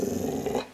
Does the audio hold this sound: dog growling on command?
yes